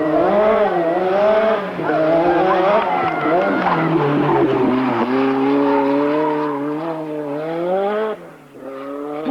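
A Renault 5 Turbo rally car driven hard by Ragnotti, its engine note rising and falling through gear changes with squealing tyres, loud and continuous for the whole stretch.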